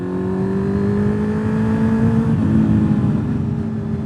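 A Honda CB650R motorcycle with a loud aftermarket exhaust revs steadily up, pitch climbing, then eases off the throttle and hangs at a lower rumble, close and loud throughout with no talk.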